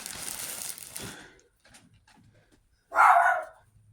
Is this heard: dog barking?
yes